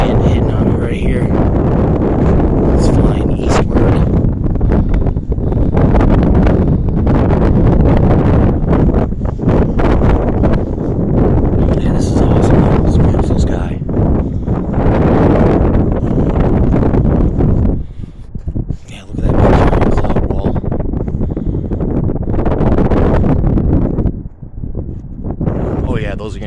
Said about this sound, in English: there's a steady, prevalent wind hitting on me right here